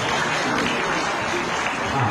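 Applause at a public gathering in Uttarakhand: a dense, steady wash of many hands clapping, loud and continuous throughout.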